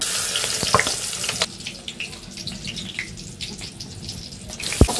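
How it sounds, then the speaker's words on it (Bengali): Salted onions fry in hot oil in a wok for biryani birista, giving a steady crackling sizzle with occasional clinks and a sharp knock near the end, no talking. "আমি এইভাবে বেরেস্তাগুলোকে লাল লাল করে ভেজে নেব।"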